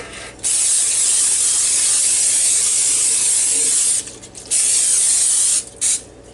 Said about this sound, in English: I'm going to spray my pan with Pam.